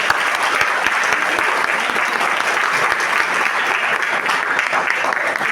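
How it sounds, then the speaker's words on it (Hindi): An audience at a fitness week event gathered for a police superintendent's motivational speech breaks into sustained, loud applause, many hands clapping evenly throughout with no speech over it. "आपकी तालियों की आवाज से उसका अंदाजा होगा।"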